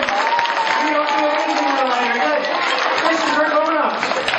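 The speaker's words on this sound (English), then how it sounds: "Giant round of applause for Madison." School audience at a Mad Science presentation at the Doran School applauds for a child volunteer named Madison, with loud, steady clapping and cheering kids' voices running through the whole moment.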